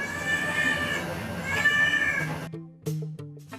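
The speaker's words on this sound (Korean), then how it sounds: "지금 새끼 부르는 소리인데요" A mother cat living on a cafe rooftop meows to call her kittens: a long, drawn-out nearby cry, then a pause and a few shorter calls.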